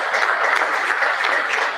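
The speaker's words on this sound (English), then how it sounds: "It's another round of applause for our team." Audience applause at a university lecture event, a dense, continuous wash of clapping from a large crowd, fairly loud and even throughout.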